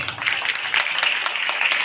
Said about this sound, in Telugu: వారిని చప్పట్లతో మనం అభినందిద్దాం.